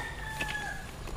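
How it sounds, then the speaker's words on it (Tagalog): A rooster crows faintly on a mountain homestead, a drawn-out call rising over steady outdoor background noise, distant and low in level. "May manok."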